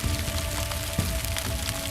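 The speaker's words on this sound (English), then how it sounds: "that's like popcorn. Sounds like rain. I think those are sand fleas." Sand fleas leaping in grass make a dense, continuous crackle of tiny pops like light rain or popcorn, close and even, with a few slightly sharper ticks.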